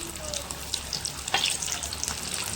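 Fish roe fritters fry in a pan with a steady, fairly quiet sizzle and a few soft clinks as they are turned, the crackle running unbroken for a couple of seconds.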